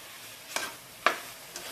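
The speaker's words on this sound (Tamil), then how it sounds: "நல்லா மிக்ஸ் பண்ணி விட்டுருங்க." Chicken with salt and turmeric is stirred in a pan for Chettinad chicken curry, giving three evenly spaced, sharp scraping strokes over a faint background sizzle, with no talking.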